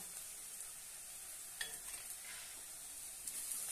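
Onion seasoned with red chili powder, salt and kala masala is stir-fried in a pan for a dry moong dal bhaji, giving a soft steady sizzle with a few brief scraping stirs.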